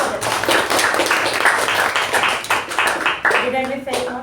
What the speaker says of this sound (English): Let's give a huge round of applause for our MC for that.